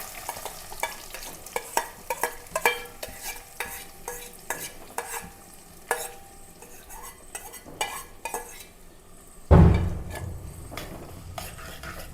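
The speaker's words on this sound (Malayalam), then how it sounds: "ചട്ടി വെച്ചിട്ടുണ്ട് എണ്ണ ഒഴിച്ച് ഇതിലേക്ക് രണ്ട് വലിയ സവാള കുഞ്ഞു കുഞ്ഞ അരിഞ്ഞതാണ്" Two large, finely chopped onions go into hot oil in a pan for beef vindaloo: repeated clinks and scrapes of a spoon against the pan, then a sudden loud, close sizzle that eases off toward the end.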